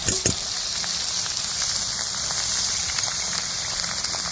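Garlic paste and ginger paste frying in hot oil for basanti pulao and doi chicken, a loud, even sizzle that holds steady from start to finish, with a few sharp spatters near the beginning.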